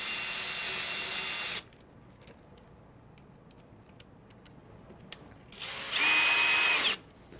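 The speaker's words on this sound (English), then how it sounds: "and then drive that screw all the way in" A power drill drives a screw into the side bow of a Bestop Trektop soft top, a loud steady whir for over a second, a quiet pause with faint clicks, then a second brief high burst.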